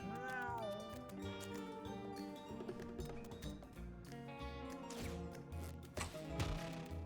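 Cats meowing in a video game, repeated close meows and yowls over a layered game music bed, continuing throughout at moderate level.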